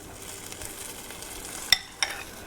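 Chaffle batter sizzles faintly inside a Dash Mini waffle maker as a soft, steady crackle. Two sharp clicks near the end stand out over the hiss.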